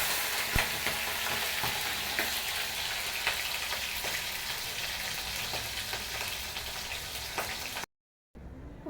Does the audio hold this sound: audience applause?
no